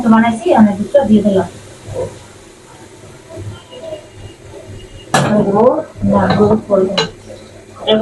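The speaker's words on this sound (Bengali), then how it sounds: "দুধ আমরা জাল দিয়ে ঘন করছি" A spoon scrapes and clinks against a pan as milk is stirred and boiled down to thicken for Shab-e-Barat halwa, the utensil clatter coming in bursts between stretches of someone talking.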